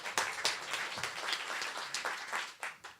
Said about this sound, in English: You stupid audience shower me with applause.